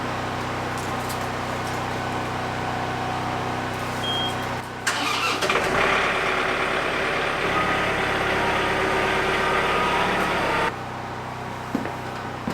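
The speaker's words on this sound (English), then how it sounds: "You shouldn't just start that tractor up and drive it that quickly" A John Deere 4044M compact tractor idles loudly, then its engine cranks and catches with a jump in level, runs at a raised steady roar for several seconds, and drops back abruptly; no one talks.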